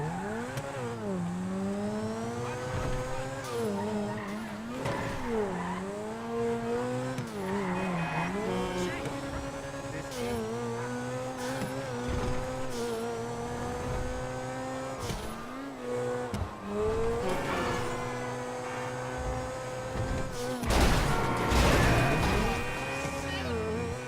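Grotti Turismo R supercar driving in GTA V, its engine note rising and falling through gear changes at steady loudness, with brief tire squeals and a louder burst near the end.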